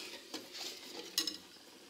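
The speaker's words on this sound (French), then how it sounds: "j'ai toujours mon petit fouet dans l'autre casserole pour mélanger le lait" A small whisk stirs milk in a saucepan, giving soft scraping swishes and a few light metallic clinks against the pan, close by and quiet, with a sharper tap near the end.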